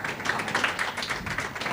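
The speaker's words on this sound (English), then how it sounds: "Let's give her a round of applause" An audience claps for a presenter at a summit and book launch, a steady, moderately loud patter of many hands that continues evenly throughout.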